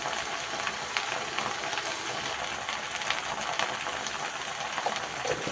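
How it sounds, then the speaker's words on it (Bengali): Leafy greens with turmeric sizzle steadily in hot oil, a constant hiss and crackle that stays even throughout with no voices. "আর দেখো শাকটা তেলের মধ্যে কেমন একটা চড়চড় চড়চড় আওয়াজ হচ্ছে"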